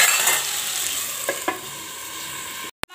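Brinjal (eggplant) frying in oil in a pan, a steady near sizzle with a couple of light stirring knocks before a sudden cut near the end.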